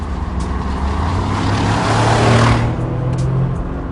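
A 544-horsepower body-on-frame off-roader with a seven-speed automatic drives through the Swabian Alps, its engine a loud, steady low rumble that swells slightly midway and continues without talk.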